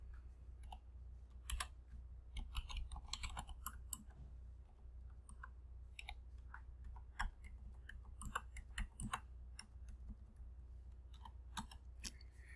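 Python code being typed on a computer keyboard: faint, irregular key clicks in scattered bursts over a low, steady room hum, with no talking.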